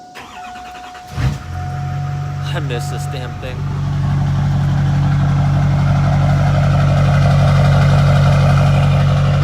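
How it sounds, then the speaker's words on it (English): An LB7 Duramax diesel pickup truck cranks briefly and catches, then settles into a loud, steady, rumbling idle outdoors in damp conditions; someone speaks briefly over the engine as it starts. "we will stand out here and start the truck"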